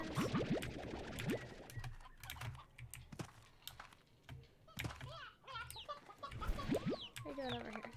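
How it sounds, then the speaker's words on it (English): Chickens in the video game Slime Rancher cluck and squawk repeatedly throughout, mixed with steady keyboard clicking and brief talking. "Oh, we have chickens."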